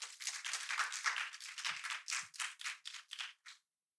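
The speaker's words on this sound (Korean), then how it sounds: "큰 박수 부탁드립니다" An audience at a youth climate conference session in Korea claps at a fairly low level, a brisk run of hand claps that thins into a few scattered final claps and then stops.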